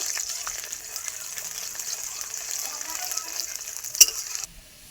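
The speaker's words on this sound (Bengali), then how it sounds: "তেলটা গরম হয়ে গেছে এবার আমি রসুনটা দিয়ে দেবো দিয়ে রসুনটা ভালো করে আমি নেড়ে চেড়ে ভেজে নেব" Garlic fries in hot oil, a bright, continuous sizzle close by, stirred with occasional scrapes and one sharp knock on the pan just before the sizzle drops away at the end.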